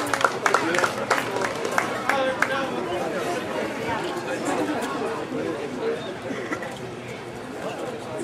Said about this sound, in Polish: Wielkie brawa, kochani, wielkie brawa.